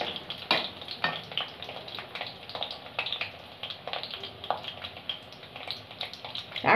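Whole Maggi noodles fry in hot oil over a low flame, giving a steady crackling sizzle broken by scattered louder pops and stirring scrapes, close and without talk.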